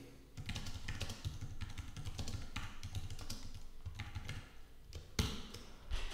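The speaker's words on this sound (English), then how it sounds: "so let's type a phrase." Keys on a computer keyboard clatter steadily for about six seconds as a phrase is typed, a dense run of close, light clicks with a few louder key strikes near the end.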